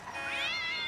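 A single cat lets out one drawn-out meow, rising then sliding down in pitch, close and clear, lasting under a second with no talking over it.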